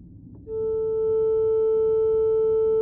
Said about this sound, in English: Let's listen to just the sine wave output.